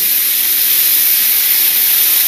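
Steady, dense hiss of steak searing in a hot pan as a splash of water hits it, continuous and fairly loud for about two seconds with no talking.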